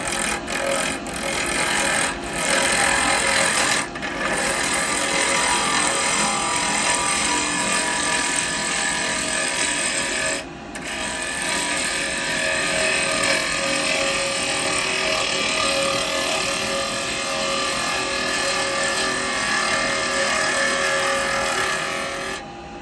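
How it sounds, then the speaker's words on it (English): A wood lathe spins a workpiece while a tenon is cut on its end, a loud, continuous whirring grind with scraping texture and a few brief breaks where the tool lifts off. "I'm going to get a tenon on this end so I can drill down into there"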